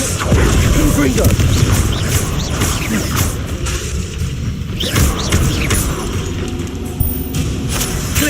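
Hogwarts Legacy combat on hard difficulty with a Confringo explosive spell among repeated blasts and thuds; loud booms and impacts recur over a busy, clattering mix of spell effects.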